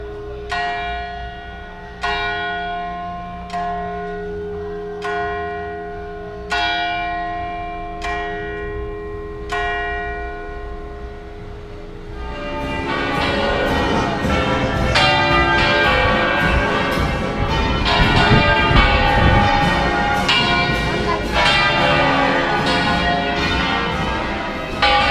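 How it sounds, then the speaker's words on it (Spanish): Church bells ringing the Angelus during the patronal festival in Colmenar de Oreja: single bell strokes spaced a couple of seconds apart, then a fuller, denser ringing of several bells with rich ringing overtones, loud and sustained. "Este es el Ángelus, ¿eh?"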